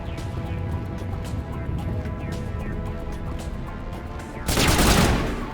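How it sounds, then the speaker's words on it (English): Rapid gunfire from the video game Mass Effect Legendary Edition, a steady stream of shots layered over game ambience, swelling into a louder burst near the end. "You guys are shooting through a wall right now."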